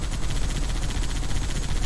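Rapid continuous automatic gunfire from the Halo 3 video game as a player shoots a Warthog vehicle in a Lego Harry Potter mod, a dense, loud rattling barrage with no pauses and no talk.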